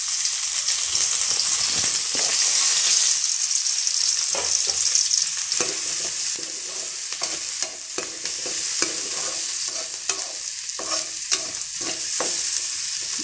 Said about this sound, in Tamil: வெங்காயம் கடுகு வெங்காயம் போட்டு வதக்கி வச்சுங்க.